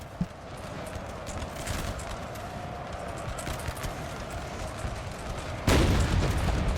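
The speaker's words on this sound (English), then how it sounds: "This is a lot of artillery." Napoleonic battle in Napoleon Total War with massed artillery and musket fire, a continuous crackling, thudding din of distant volleys and cannon under galloping cavalry hooves, with a louder burst near the end.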